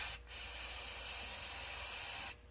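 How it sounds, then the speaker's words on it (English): Brake cleaner sprays from an aerosol can onto a towel in one steady, close, loud hiss lasting about two seconds, starting and stopping abruptly, with no voices. "I'll take some brake clean on a towel"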